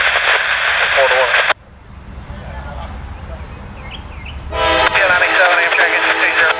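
A CSX freight train rolls past on track one at Folkston, a low rumbling roar beneath loud bursts of radio chatter that open and close the stretch.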